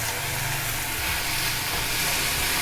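Spring onion bulbs, ginger, garlic and tomato sautéing in a pan give a steady, close sizzle and hiss that holds evenly throughout, with no voices.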